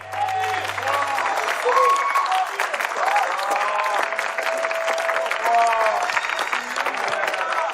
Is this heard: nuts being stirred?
no